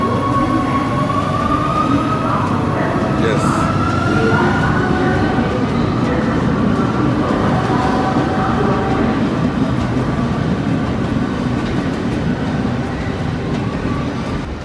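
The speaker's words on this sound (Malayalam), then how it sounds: "നമ്മളത് ട്രെയിൻ നമ്മളെ വിട്ടിട്ട് പോയി കഴിഞ്ഞ്." A train departs Ottaviano San Pietro station near Vatican City, Italy, with a loud, steady rumble and clatter of wheels on rails throughout, plus faint squeals; a voice briefly speaks once.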